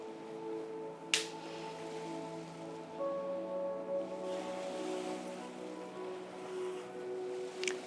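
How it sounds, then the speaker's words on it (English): Ocean surf breaking ahead at the end of a pathway, a steady wash of waves holding at a moderate, even level with no talk, broken only by a couple of brief crisp splashes. "You can hear the waves up ahead, and you can smell the ocean spray."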